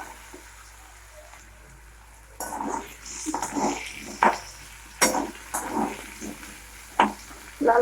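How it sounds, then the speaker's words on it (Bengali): Potatoes seasoned with salt fry in a pan beside salted prawns, a fairly loud sizzle that starts after a quiet opening and is broken by scraping stirs and clinks of a spatula. "লাল লাল করে ভেজে নিচ্ছি।"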